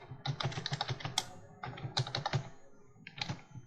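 Someone types on a computer keyboard in short bursts of rapid, close key clicks separated by brief pauses, with no talking.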